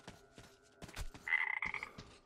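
Frogs croaking in the video game Metro Exodus, a series of close, distinct croaks at irregular intervals, with a few louder, buzzing calls near the middle, over a faint steady background hum.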